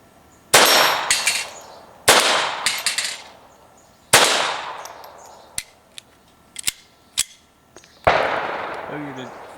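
Four sharp, loud gunshots from a Sig Mosquito firing .22 Long Rifle rounds during a reliability test, spaced a couple of seconds apart, each ringing off quickly. Lighter mechanical clicks from the gun are heard between the shots.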